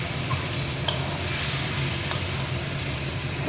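Mutton cooking in a pan for mutton haleem, a steady broadband sizzle with a couple of faint scraping stir clicks, close and even throughout.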